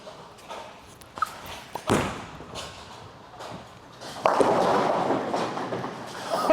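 A Roto Grip Idol Cosmos bowling ball with a shiny surface thumps onto the lane and rolls, then a louder clatter as it strikes the pins, heard from a distance without voices.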